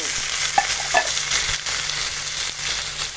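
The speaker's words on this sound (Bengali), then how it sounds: "পেঁয়াজটা এখন এরকম ভাজা হয়েছে আর এখন দিয়ে দেব এই মাখিয়ে রাখা এবং পেঁয়াজি খাসির মাংস" Marinated mutton frying with browned onions in a wok, a steady loud sizzle broken by a few clanks and scrapes of stirring.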